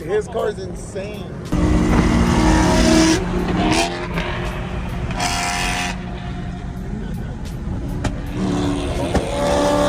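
A BMW M2 drifts at a car meet, its engine revving hard while the tires squeal loudly and continuously for several seconds. Excited voices and crowd noise run underneath.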